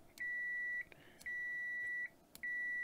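An ANENG AN870 multimeter set to continuity gives three sustained electronic beeps, each under a second long, separated by short gaps and soft handling clicks. The tone is clear and fairly quiet against a hushed background.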